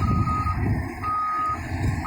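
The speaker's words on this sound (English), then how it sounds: "There go 2 grapple trucks." County grapple trucks reversing at a landfill, with a steady high-pitched backup alarm beeping repeatedly over rumbling diesel engine noise nearby.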